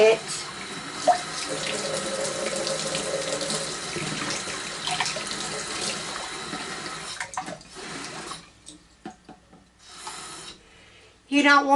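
A kitchen tap runs steadily for several seconds as water is left flowing to warm up, then cuts out and sputters in short bursts near the end; no talk over it.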